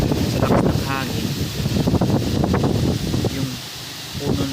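Strong wind roars and rustles through large coconut palm leaves along the Maharlika Highway, a steady loud gusting that swells and eases throughout.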